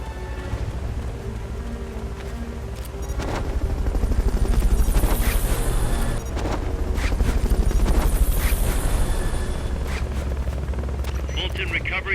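A military helicopter in the video game Metal Gear Solid: Peace Walker drones with a steady, loud rotor roar that swells and fades, joined by bursts of gunfire-like noise and game voices.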